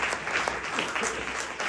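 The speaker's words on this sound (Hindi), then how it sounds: "में चाहूंगा ऐसे महागुरु जी के लिए जोरदार तालियां हो जाए।" Loud applause from an audience at a wellness business event, honouring a company leader; dense, steady clapping fills the short stretch with no pauses.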